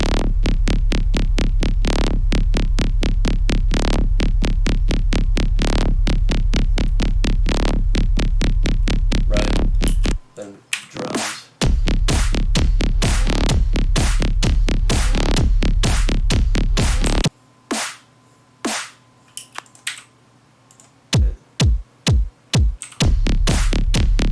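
Deep, pulsing bass throbbing in a fast steady rhythm, loud and close, with short pauses and a few isolated hits near the end.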